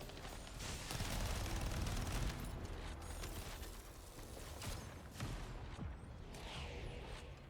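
Sustained gunfire from a shooter game, The First Descendant, rattles on for the full stretch as a dense, loud barrage of overlapping shots with a few sharper bursts, no voices present.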